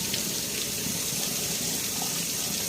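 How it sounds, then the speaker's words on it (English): Hot water pours steadily over a vinyl T-800 skull model kit to soften it: a constant close gush and splash of running water, alone with no talk, for about three seconds. "I'm just going to heat up the whole thing with this water"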